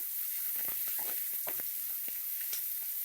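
Onions frying in a pan for a drumstick-leaf egg bhurji give off a steady, fairly quiet sizzle, with scattered crackles and small pops throughout and no talking.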